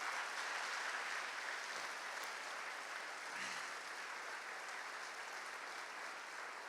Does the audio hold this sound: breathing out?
no